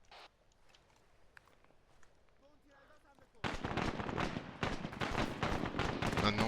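Gunfire in the military video game Arma 3 during a milsim mission, dense rapid shots and bursts loud and close in the second half after a quieter stretch of distant sporadic shots.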